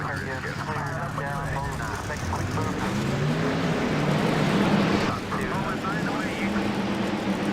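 Race truck engines in NASCAR Racing 2003, Pennzoil Truck Series at Richmond for the Gatorade 200, rumble together in a dense, steady roar that swells slightly mid-way before a brief dip, holding loud throughout.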